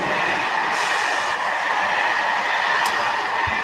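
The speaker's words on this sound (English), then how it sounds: "That's the high-speed bullet train." A high-speed bullet train passes close by, a loud continuous rushing roar that holds steady throughout, with no talking.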